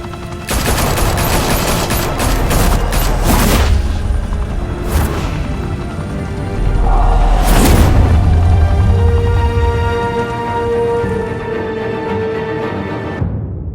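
Gunfire erupts in a shootout in Gotham in a Batman video game, loud bursts and rapid volleys at the start with sharp booming shots, then a second heavy volley midway before the firing fades into a ringing tail.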